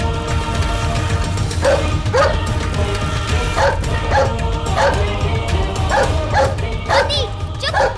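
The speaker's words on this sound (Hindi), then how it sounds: "एक बार भी और भौंक ले तो हम तोहरा से कभी बात ना करब।" A dog barks repeatedly in short yipping bursts, loud and close, with some whimpering, in a Bhojpuri drama scene over steady background noise.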